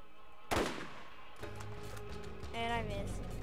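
Gunfire rings out against a bandit raider in the video game Borderlands: one loud, sharp shot, followed by rumbling game effects and a rising electronic whine.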